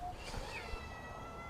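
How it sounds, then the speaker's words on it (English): A shy young kitten gives a faint, thin meow near the start against a quiet, noisy background. "You don't have a name yet, you're a kitten."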